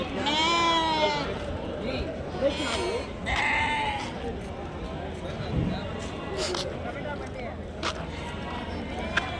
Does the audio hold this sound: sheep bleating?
yes